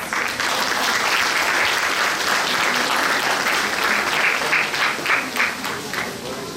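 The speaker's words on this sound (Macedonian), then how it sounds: "Навистина еден голем аплауз за вас." Applause from a crowd at a carnival mask award ceremony in Strumica, a loud, sustained burst of many hands clapping that tapers slightly at the end.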